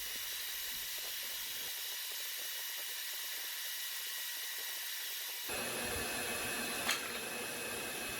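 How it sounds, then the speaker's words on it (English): A bandsaw cutting out wooden pieces produces a steady, bright whine and hiss that shifts to a louder, fuller tone partway through, with a short sharp tick near the end. "You guessed it, bandsaw again."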